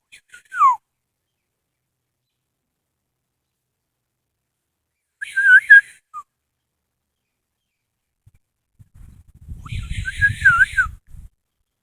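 A person whistles short imitation bird-call warbles, three brief bursts spaced widely apart, with a low rumbling rustle near the end.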